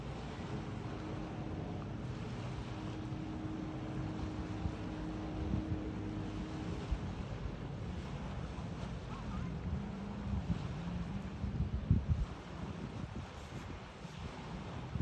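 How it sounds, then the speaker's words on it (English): Boat resembling a yellow Corvette cruising on open water toward a beach, a continuous low engine rumble mixed with wind buffeting and wave wash, fairly faint and steady. "Boat on water."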